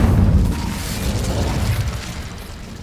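An Incendio fire spell cast in Hogwarts Legacy bursts out as a loud, close whooshing blast with a low rumbling boom that fades gradually over a few seconds.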